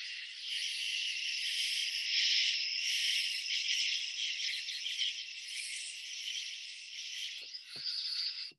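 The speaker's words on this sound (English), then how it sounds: "That's the sound of cicadas, which we don't have so much back in California." Cicadas recorded in Austin, Texas and played back from an iPhone, a dense, loud, continuous high-pitched buzzing drone that swells and eases slightly, heard alone with a couple of faint handling clicks near the end.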